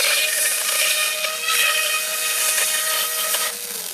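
A blade tool scraped hard against wood edges to distress them, a loud, continuous raspy scraping with rhythmic strokes, close up and alone.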